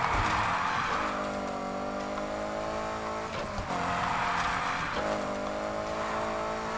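Drifting car in the racing video game Need for Speed Heat: a steady, loud engine roar with shifting revs and tire squeal running continuously, briefly dipping mid-way, with no talking.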